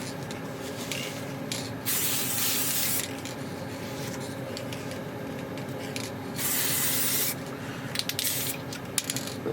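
An aerosol spray can lays a final coat of paint on small steampunk gauge parts in two close, hissing bursts, with light clicking and rattling handling noises between them.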